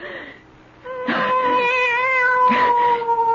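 A cat in a 1974 CBS Radio Mystery Theater drama gives a long, drawn-out wailing meow, preceded by a brief shorter cry, close and loud with a trace of a voice before it.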